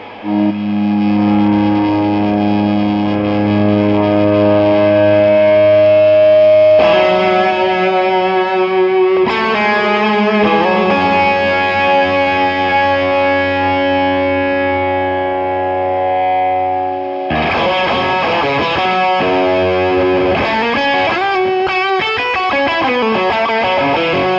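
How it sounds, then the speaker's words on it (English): An electric guitar driven through a loud Two-Rock amplifier sustains howling feedback tones that shift pitch in several long sections, distorted and ringing, with no talking. "So let's just do the feedback test to start off with."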